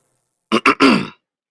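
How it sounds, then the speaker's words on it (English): A person clears their throat in a few short, rough bursts, close and fairly loud, followed by silence. "Clear your throat."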